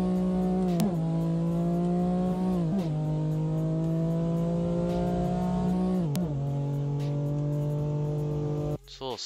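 A tuned BMW S55 car engine holds a loud, buzzing rev, then drops pitch sharply at each gear change, three shifts in succession before cutting off near the end.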